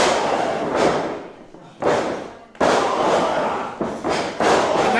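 Heavy thuds of forearm strikes to the face in an independent pro wrestling match, several loud impacts with short gaps, an excited crowd and a commentator's voice around them.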